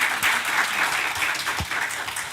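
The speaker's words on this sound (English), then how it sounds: "A round of applause for everyone." An audience at an expert health talk applauds the speakers: a thick, continuous wash of clapping, close and loud throughout, with no one speaking.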